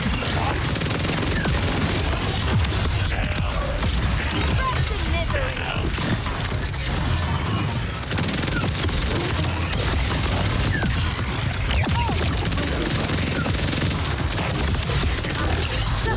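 Dense, continuous gunfire in the Borderlands 4 game, rattling bursts and booms layered into a loud, busy battle mix that runs the whole time with no clear pauses, with a voice talking over it.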